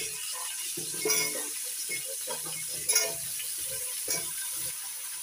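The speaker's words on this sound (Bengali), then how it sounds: "এবার দিয়ে দেবো সবজি" Chopped vegetables go into a frying pan for pui prawn chachhari, a Malabar spinach and prawn dish, with a quiet continuous sizzle broken by a few louder scraping stirs near the start, middle and end.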